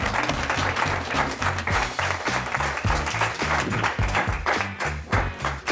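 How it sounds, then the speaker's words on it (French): A studio audience at a French game show applauds loudly for Tiffany, a dense run of clapping with rhythmic thumping beats beneath it, sustained and close. "On peut applaudir très fort Tiffany"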